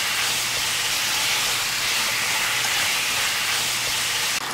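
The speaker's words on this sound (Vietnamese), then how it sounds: "Xào lên cho thịt nó săn lại" Marinated pork stir-frying in a pan after garlic and shallots gives a dense, continuous hissing sizzle, loud and unbroken throughout.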